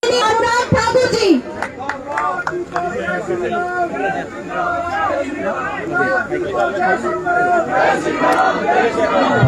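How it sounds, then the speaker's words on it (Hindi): A political election rally crowd in Nagrota cheers and shouts to welcome Anurag Thakur, a dense, loud roar of voices and chanting with some clapping mixed in, continuing throughout without a break. "जोरदार ताली के साथ स्वागत करें"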